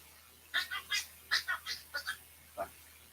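A human voice imitating Donald Duck's quacking, squawky speech: about nine short nasal bursts in quick clusters of two or three, fairly close and clear.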